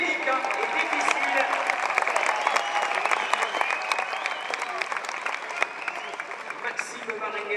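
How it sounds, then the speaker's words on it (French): Audience at a trial motorbike event applauding steadily and loudly throughout, a dense wash of clapping with scattered voices and a whistle underneath. "Allez, on l'applaudit là"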